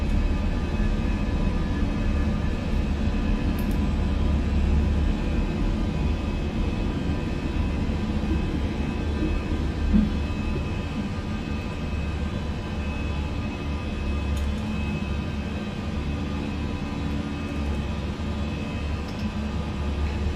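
Airbus A319 in a flight simulator climbing out after takeoff, a steady broadband engine roar holding evenly throughout with no voices.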